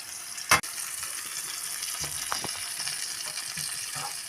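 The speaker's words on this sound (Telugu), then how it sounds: "ఆయిల్ పెట్టి జీలకర్ర, ఆవాలు, ఆనియన్, పచ్చిమిర్చి, కరివేపాకు వేసి వేయించాను" Cumin, mustard seeds, onion, green chilli and curry leaves frying in hot oil give a steady soft sizzle, broken by one sharp loud pop early on and a few small clinks and crackles.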